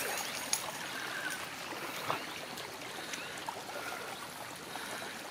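Overflow water from a full dam running down a concrete spoon drain, a steady soft rushing trickle heard close by with small splashy ticks and no talking.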